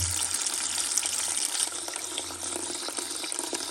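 Steady rushing water pours continuously out of underfloor heating pipes being flushed, a broad constant gush with no pauses, fairly close.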